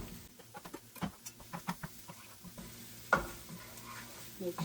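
Poblano pepper being stirred into sautéed vegetables in a pan, with soft scraping stir strokes and a faint sizzle, close by and fairly quiet.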